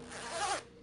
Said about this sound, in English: I'm just gonna zip this up.